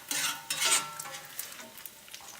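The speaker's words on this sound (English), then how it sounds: "our bacon is getting crispy" Bacon crisps in a pan on a turned-down stove, a soft close sizzle with a few light scrapes and clinks, no voices.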